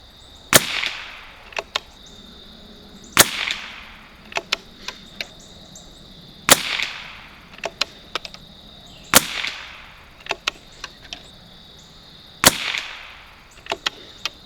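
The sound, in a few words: rifle shots from a 1972 Anschutz Model 54 Match .22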